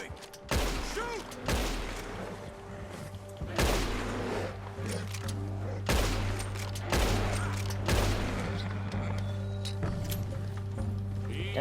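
Repeated bursts of gunfire from a bear hunt in a video game, loud close volleys spaced a couple of seconds apart, with game ambience and some voice in the background.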